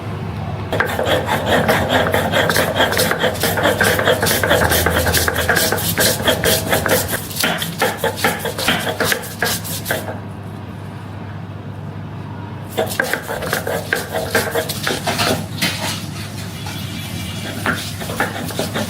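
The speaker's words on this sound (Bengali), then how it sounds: "পাতাটা কাঁচা হলে কি হবে, বাটতে কিন্তু একদমই কষ্ট হচ্ছে না, খুব সহজেই কিন্তু পাতাটা বাটা হয়ে যাচ্ছে" Raw pumpkin leaves being ground into paste by hand on a stone in a village kitchen, a steady rough rasping and rubbing that continues near and loud, pausing briefly before resuming.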